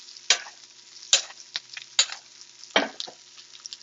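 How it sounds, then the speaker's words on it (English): A steak sizzles in a pan while being basted with hot butter, a quiet steady fry broken by several sharp spitting bursts each time the butter is spooned over. "you make the steak really fabulous. It's this butter bathing."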